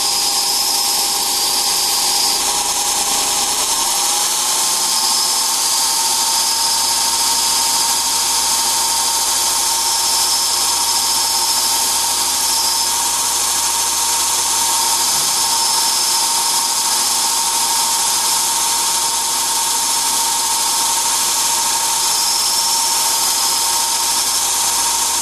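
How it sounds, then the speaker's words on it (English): A Jim Quick hoof gouge is ground on an 80 grit belt sander, a loud, constant high-pitched whine and rasp that holds unbroken for about 25 seconds with no talking. "So we've come this far with an 80 grit belt."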